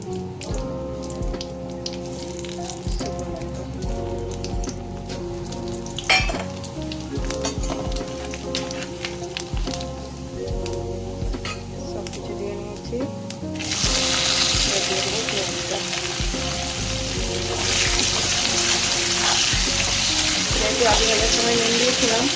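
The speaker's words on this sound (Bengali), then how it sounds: "পেঁয়াজটা আমি ভেজে নেবো ভালো করে" Onions with bay leaf, cinnamon and cardamom frying in oil for a chicken curry with peas: a steady close sizzle swells sharply louder halfway through and stays loud, with some voice in the background.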